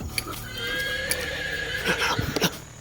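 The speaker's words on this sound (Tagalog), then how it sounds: "boses ng kabayo" A horse whinnies in a long, wavering neigh, near and fairly loud, with a few hoof clops and background noise around it.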